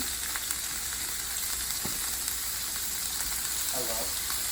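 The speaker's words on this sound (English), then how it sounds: "I am going to leave them cook on one side for about 3 to 4 minutes until they get a little bit crispy." Shrimp left to crisp on one side in a frying pan give off a continuous close sizzle with faint occasional pops and a soft background hum.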